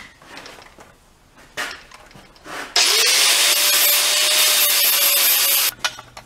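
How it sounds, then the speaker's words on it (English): Angle grinder flattening the welded sides of a Lawn Boy mower gear part: a loud, steady, high-pitched grinding roar running about three seconds, with its pitch dipping as it bites, after quieter clanks and taps. "I'll grind the sides flat."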